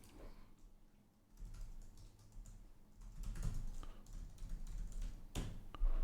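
Quiet clicking of a computer keyboard during coding work, with irregular bursts of keystrokes up close and a sharper single press near the end like the Enter key; no talking.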